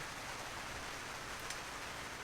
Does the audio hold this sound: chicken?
no